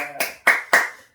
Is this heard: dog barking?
no